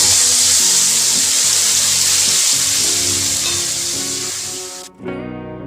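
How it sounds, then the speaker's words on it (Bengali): Spice paste with turmeric, masala powder and chili fries in a pan for a vegetarian paneer masala. It sizzles loudly and steadily with occasional stirring, then cuts off abruptly near the end. "ভালো করে মশলার পেস্টটাকে কষিয়ে নেব।"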